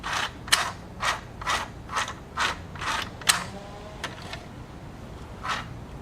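Small Singer Tiny Tailor sewing machine's bobbin winder mechanism clicking and whirring in a run of about eight short, evenly spaced bursts, close and fairly quiet with no voices.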